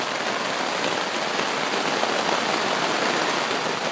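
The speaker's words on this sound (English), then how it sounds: "it's now pouring rain" Heavy rain drums loudly and steadily on the top of a tent on a trip in Maine, a dense, close, unbroken hiss that fills the whole stretch with no voices.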